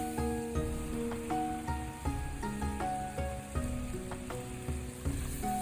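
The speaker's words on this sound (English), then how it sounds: "Now pour in the sauce that we mixed earlier and mix everything up." Sauce sizzling and bubbling in a pan with minced pork and star anise while being stirred, for braised eggplant; a steady close sizzle with scraping stirs, over tonal background music and no talk.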